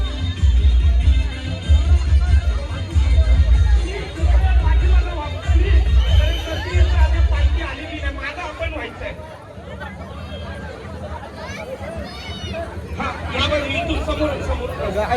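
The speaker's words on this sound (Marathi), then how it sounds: "मोठ्या प्रमाणात गर्दी आहे, मोठ्या प्रमाणात गर्दी" A large outdoor crowd at a village palkhi procession keeps up a loud, dense babble of many voices, with a thumping low rhythm at first that later fades under the chatter.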